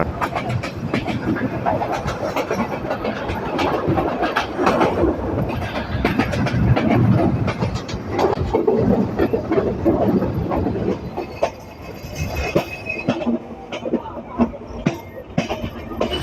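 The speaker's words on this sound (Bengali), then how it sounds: "খুলনাগামী ডাউন রূপসা এক্সপ্রেস ট্রেনটি ঝড় গতি তুলে" The Khulna-bound Rupsha Express runs at high speed, with a continuous heavy rumble and rhythmic clickety-clack of wheels on rail joints heard close, as from inside a carriage, and no one talking.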